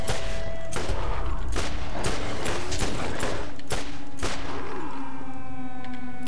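Bursts of gunfire in Borderlands 4, loud and close, with sharp shots in rapid irregular clusters over a humming, siren-like game soundscape.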